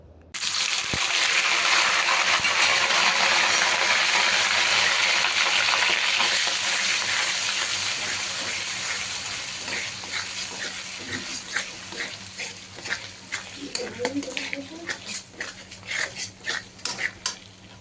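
Ground spice pastes of cashew, poppy seed, onion, nutmeg and mace frying in hot oil in a pan, a loud steady sizzle that gradually settles into softer, crackling spits and pops near the end.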